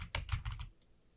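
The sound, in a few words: typing on a computer keyboard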